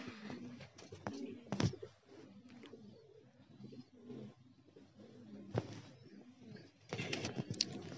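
Pigeons in a flock of nineteen coo softly, with low, repeated burbling calls close by and a few sharp wing flaps or knocks scattered through.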